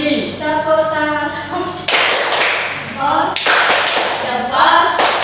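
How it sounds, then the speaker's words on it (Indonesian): A classroom of primary school pupils claps in applause for a student named Yuli during a geometry lesson, a loud burst of clapping that swells, pauses and resumes in several waves, with voices chanting along. "Berikan tepuk salut pada Yuli."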